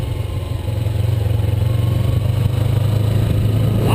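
A Kawasaki Ninja motorcycle's engine drones loudly and steadily up close, with a low throbbing note, before the revs climb sharply in the final moment.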